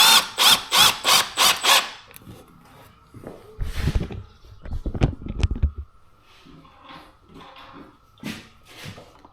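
A power drill drives screws into a window trim board outdoors, quick rhythmic bursts followed by louder grinding runs and scattered knocks and handling noises.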